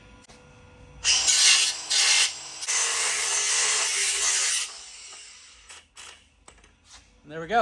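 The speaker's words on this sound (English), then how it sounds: "now we're going to do some cutting" A power tool cuts out the stock OEM rear differential bushing in two loud, close bursts of grinding and rasping, followed by quieter scraping and a short spoken remark.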